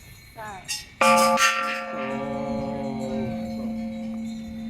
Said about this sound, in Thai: อันนี้เป็นระฆังเนาะ